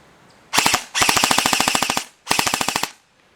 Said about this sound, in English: Okay, let's try full auto.